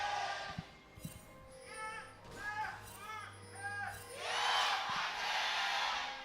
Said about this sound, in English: that cheer sounded louder than your average T1 cheer